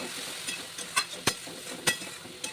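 A spoon scrapes and knocks around a pan of fish curry masala with kakrol, giving several sharp taps and scrapes over a low, soft sizzle of oil.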